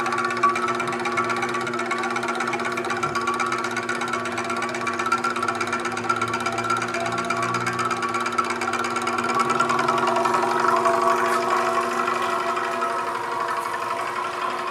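Lab-Line Maxi Stir 1295 laboratory stirrer running with a sample, a steady mechanical motor hum with a fine rapid whir that holds evenly throughout, no voices.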